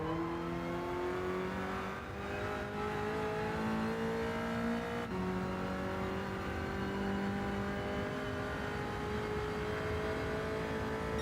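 A race car engine in Gran Turismo 7, running on sports tyres, holds a steady, loud drone with rising and falling pitch as it accelerates and shifts, a brief gear change near the middle, with no talk.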